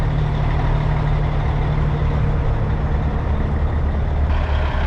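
Diesel tanker trucks rumble loudly as they roll out of a snowy, icy yard, giving a continuous low engine drone with steady broadband noise throughout and no voices.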